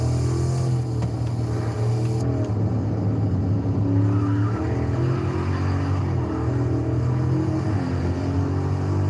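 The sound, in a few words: Mercedes E-Class car engine revving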